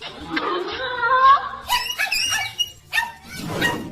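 A dog barking at a zoo: a few short, sharp barks mixed with yelps and noisy scuffling, fairly close and loud, with other voices or animal sounds around them.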